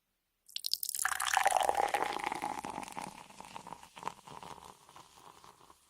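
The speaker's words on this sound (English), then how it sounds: "let's add the water. Okay. Claire, you can pour it in actually. Nice and slowly." Water poured slowly into a container during a kids' science experiment, a sustained splashing and trickling stream that starts abruptly, stays fairly loud, then gradually thins out with scattered drips toward the end.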